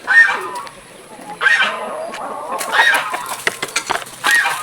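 Several chickens cluck close by while being fed coconut worms, a string of short bursts of clucks and calls over a faint background hum, with no clear talk.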